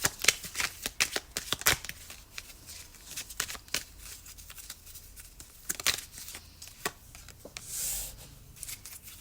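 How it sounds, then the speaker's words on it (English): Tarot cards are shuffled in quick, crisp riffling bursts close to the microphone, followed by a few softer, sparser card sounds. "So I'll just shuffle your cards"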